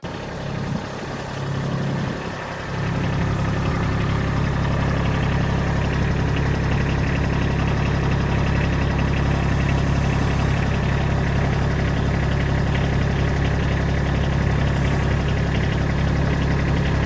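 A Kubota B2301 tractor idles while backing up to join a BH70 backhoe at a cabin, its diesel engine a loud, steady, close rumble that holds unbroken throughout.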